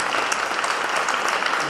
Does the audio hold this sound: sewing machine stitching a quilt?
no